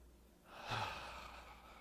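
A single soft inhale during a Taoist qigong exercise, a faint, close, airy breath that swells briefly and fades in a quiet room, with no talk.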